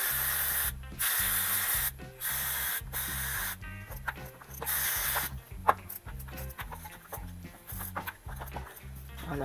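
Cleaner is sprayed onto a motorcycle freewheel during a wheel job on a Onemile Scrambler, in a series of loud, close hissing bursts, several short and a few longer, over a low, steady rhythmic hum.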